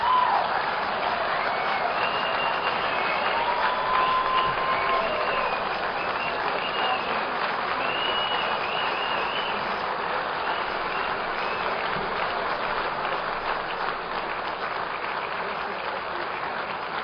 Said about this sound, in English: One more round of applause for Carol Rose